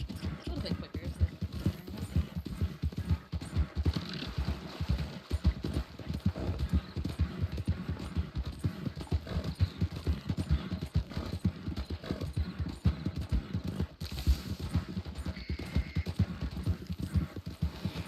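Horse hooves clip-clop in a steady, continuous rhythm throughout a RedM western roleplay game scene, close and fairly loud, with players talking over the footfalls.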